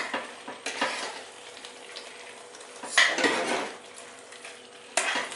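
Mushrooms being stirred into a pot of efo riro stew, a spoon scraping and clinking against the pot in several short bursts amid a soft sizzle, close and fairly quiet, with no talking.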